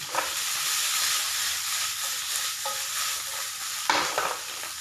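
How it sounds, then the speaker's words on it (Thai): Vegetables stir-fried in a hot pan, a steady broad sizzle and hiss with scraping stirs and a few sharper clatters of the utensil, loud and close with no talking. "เราจะจี จีผักอันนี้เอาไว้ก่อน ให้มันเกลี่ยมกันเลยนะคะ"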